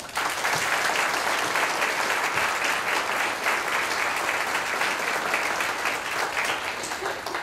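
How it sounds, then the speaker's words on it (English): Steady, loud audience applause fills a reunion dinner hall, sustained clapping from a large crowd running the whole time without a break. "Please give them a round of applause."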